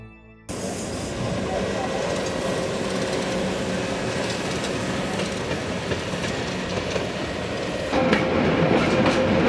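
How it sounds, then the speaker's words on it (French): Two trains on the La Mure mountain railway pass each other slowly at about 15 km/h, a loud continuous rumble with wheel clatter and rail clicks that swells near the end, heard up close without talk. "À mi-parcours, les deux rames se croisent lentement en se frôlant à 15 km/h."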